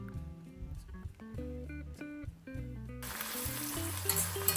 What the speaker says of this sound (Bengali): চলুন এবারে কিন্তু কড়াই বসিয়ে দেওয়া যাক আর প্রথমে বেরেস্তাটা ভেজে নিই